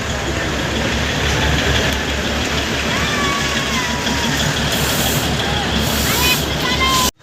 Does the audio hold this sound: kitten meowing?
no